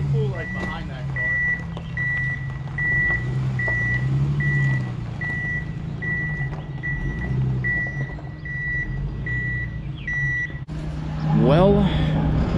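A pickup truck backing up in a residential area, its reversing alarm beeping in a steady, evenly spaced series of about a dozen tones over a low engine rumble, with people talking nearby.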